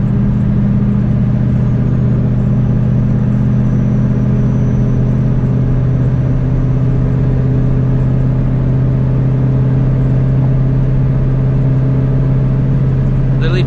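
A supercharged 2V Mustang GT making over 450 wheel horsepower accelerates hard, its engine holding a loud, steady droning pull with a constant whine layered over deep rumble, close and continuous throughout.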